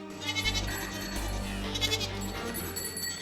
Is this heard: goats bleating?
yes